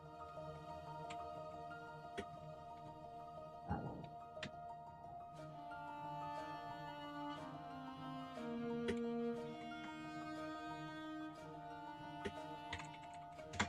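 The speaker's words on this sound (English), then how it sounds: "If you hear me typing something, I'm naming my layers." Faint, sparse computer keyboard clicks tap out irregularly over a quiet, steady background hum while digital art layers are named.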